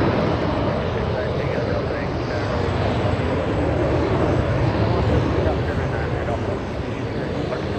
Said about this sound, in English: That's the Learjet that was taxiing right next to us.